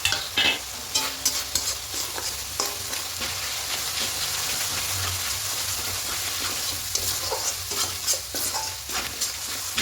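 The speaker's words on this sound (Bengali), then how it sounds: "এবার দিয়ে 2-3 মিনিট খুব ভালো করে কষিয়ে নেব, কাঁচা গন্ধটা চলে যাওয়া পর্যন্ত।" Chicken with ground coriander, cumin and Kashmiri chili is stir-fried in a pan, a constant close sizzle broken by frequent sharp scraping strokes of a spatula, loud and busy throughout with no talking.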